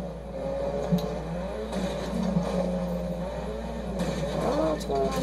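A car being driven in the video game Fortnite, a continuous engine drone with rising and falling pitch, steady and fairly loud throughout.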